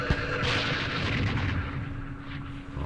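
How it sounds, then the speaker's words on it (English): Airstrike explosions in the Vietnam war game Campaign Series Vietnam, starting with a sharp blast, then a heavy rumbling boom that rolls on and slowly fades, loud and with no talk over it. "let's see what kind of damage our airstrikes can do"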